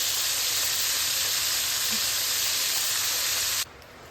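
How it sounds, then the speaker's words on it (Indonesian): Fish frying in a pan gives a steady, loud sizzling hiss that runs unbroken for most of the clip, then stops abruptly near the end and leaves quieter background. "Ini kita sudah selesai tumis ikannya, goreng ikannya."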